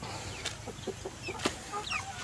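Native chickens clucking and calling nearby, with scattered short squawks and chirps over a low background rumble.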